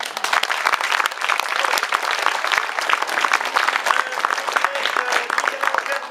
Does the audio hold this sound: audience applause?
yes